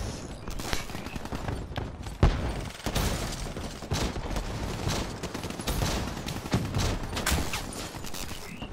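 Rapid gunfire in the video game Black Ops 3 plays as dense, continuous bursts with sharp shots punctuating a busy mix of game effects, loud and sustained throughout.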